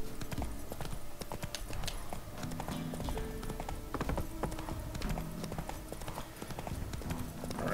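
Horse hooves clip-clop at a steady riding pace in The Witcher 3, a dense rhythmic clatter running throughout at moderate loudness.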